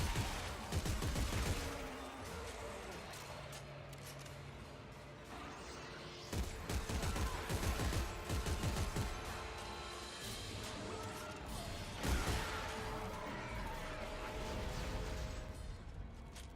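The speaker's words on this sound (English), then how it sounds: "Force gun worked so far. It pushed that guy back and I shredded him up." Force gun blasts in the sci-fi horror game Dead Space 3, heavy concussive bursts at intervals over a dense clattering combat din, fairly quiet overall with occasional low talk.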